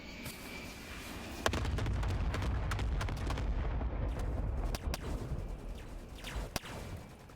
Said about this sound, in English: The gunfire's close to us, Vemon.